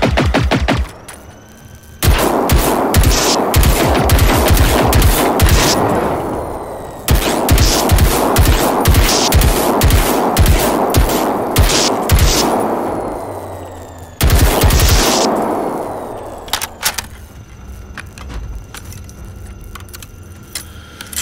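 Machine gun fire in the video game Generation Zero, three long sustained bursts of rapid rattling shots separated by brief pauses, loud and close, the last burst trailing off into quieter scattered sounds.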